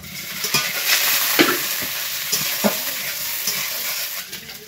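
Eggs sizzling in a pan on a stove after chopped onion and garlic were fried, a steady frying hiss broken by several short stirring scrapes, close and fairly loud with no talking.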